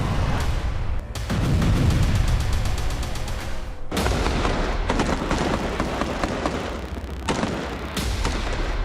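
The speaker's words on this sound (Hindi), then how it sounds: "इमारतों में छुपे हमास के लड़ाकों पर इजराइल डिफेंस फोर्स के जवानों ने ताबड़तोड़ फायरिंग कर दहला दी" Israeli soldiers fire on buildings in Gaza in loud, rapid bursts of automatic gunfire that run for several seconds, break off briefly and resume, with no voices.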